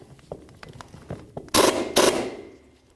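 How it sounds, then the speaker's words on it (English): A wrench snugging the top nut against a held bottom nut on a wheel hub stud of a 1999-2007 Ford Super Duty F-250, a few quiet ratchet clicks followed by two loud, close metallic grinding bursts. "Now I'm going to hold the bottom nut, snug up the top one."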